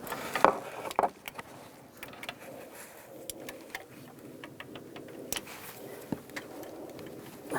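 Bolts on the coolant crossover pipe of a 2011-2018 Ram 1500 being tightened, heard as faint, irregular clicks and ticks of a tool with a few sharper knocks, close by and quiet.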